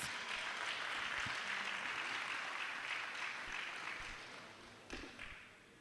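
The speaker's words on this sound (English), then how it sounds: "A round of applause, please." Faint, distant applause from guests at an edutech conference dinner and awards ceremony, a soft continuous wash of clapping that fades toward the end, with a couple of dull knocks.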